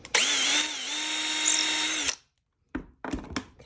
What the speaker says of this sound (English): we're just going to line up the drill bit right at that hole.